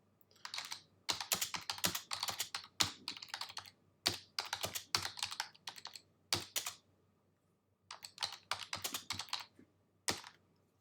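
Bursts of computer-keyboard typing as a line of code comments is entered, quick clattering keystrokes in clusters with short pauses between, close and clear, no talking.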